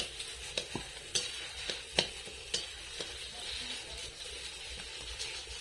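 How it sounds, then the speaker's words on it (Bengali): Taro kofta frying gently over low heat, a steady soft sizzle broken by a series of sharp scrapes and stirring knocks spread through the clip, close by with no talking. "হালকা আঁচে ভাজতে হবে না হলে নিচের অংশ পুড়ে যাবে"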